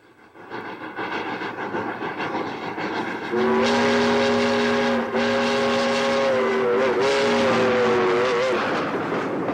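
Locomotive No. 40, built in 1910 with 68-inch driving wheels and a reputation for speed, runs on rails with a loud, steady mechanical roar, joined by a sustained whistle blast that holds for several seconds.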